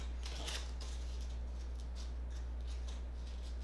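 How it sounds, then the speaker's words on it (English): Crinkly crepe paper is handled close up for a paper rose, giving soft, irregular rustles and crackles over a constant low electrical hum. "I just love the sound of crepe paper"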